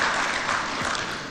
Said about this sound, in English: Now, Kenya deserves a round of applause there.